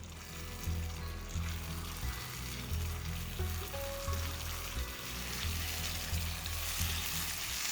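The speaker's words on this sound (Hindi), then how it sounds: "ये देखिए थोड़ा सा टॉस मैंने कर लिया।" Egg chilli tossed with sauces in a hot pan gives a steady, close sizzle with soft rhythmic scraping and stirring strokes throughout, with no voices.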